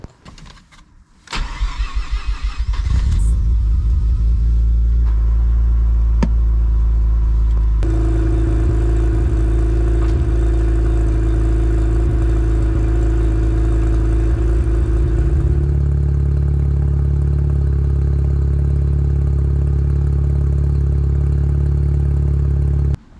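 A street-ported 13B rotary Mazda RX-7 FD fires up and settles into a loud, steady drone, then pulls away with the note climbing and holding as it drives; close and continuous, with no talking.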